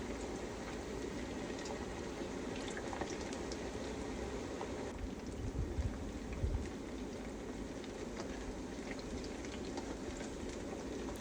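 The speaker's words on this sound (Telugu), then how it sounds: "హై ఫ్లేమ్లో ఒక 2 నుంచి 3 నిమిషాలు అటు ఇటు తిప్పి దాన్ని ఫ్రై చేయండి." Chicken pakora pieces deep frying in hot oil over high flame, a steady dense crackling hiss with fizzing bubbles that holds evenly throughout, fairly close and moderately loud, with no talking.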